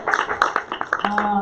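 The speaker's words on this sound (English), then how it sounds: "Round of applause for our newcomers." An audience applauds newcomers at a nonprofit gathering; scattered claps come in short bursts, mixed with voices talking over them.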